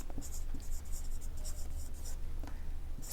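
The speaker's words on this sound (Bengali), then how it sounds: "সেইটাই আমি লিখব, সৌরভ" A pen squeaks and taps across a board in a classroom lesson, in short irregular strokes over a low steady hum, quiet and fairly close.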